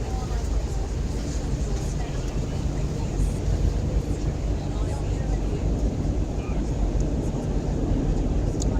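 Airbus A320-200 cabin on approach to Auckland: a loud, unbroken low roar of engines and airflow fills the space, with muffled voices faintly beneath.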